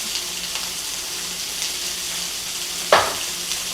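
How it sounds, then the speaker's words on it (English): Shrimp coated in harissa sizzle steadily in a hot pan while being stirred, with soft scraping and one sharp scrape or clatter near the end over the constant fry. "I'm just going to mix it all together and get this harissa and the shrimp all going together, because it will take no time at all to cook"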